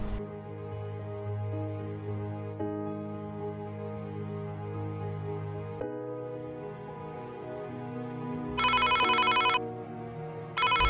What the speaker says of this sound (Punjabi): ਲੈ ਆ ਗਿਆ ਮੰਮੀ ਦਾ ਫੋਨ,